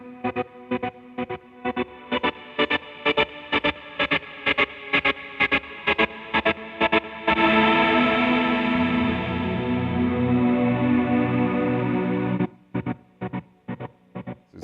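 Electric guitar played through a GTC Sound Innovations Revpad wireless multi-effects unit: rhythmic chopped, distorted strums give way to a sustained swelling pad with chorus and echo, then the stuttering chops return, loud and alone.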